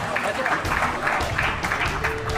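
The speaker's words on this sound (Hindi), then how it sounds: "उनका स्वागत एक बार जोरदार तालियों से स्वागत" Audience at a seminar for International Jat Day in Vasant Kunj applauding a welcome, a dense burst of clapping heard at moderate level with a voice speaking over it.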